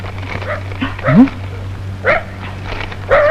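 A dog barks in short yips and bow-wows scattered over a few seconds, heard close over a steady low hum from a comedy film scene.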